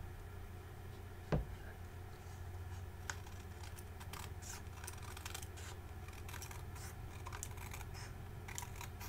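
Paper being trimmed with scissors for a craft: one sharp knock early on, then scattered faint snips and scratchy rustles over a low steady hum.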